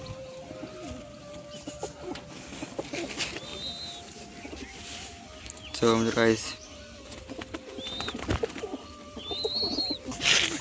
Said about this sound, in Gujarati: મિત્રો બીજું નવું કબૂતર અહીંયા છે.